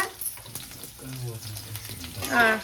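Onions fry in a pan for mushroom curry, a soft crackling sizzle with faint stirring scrapes, short and moderately quiet, with murmured voices at moments.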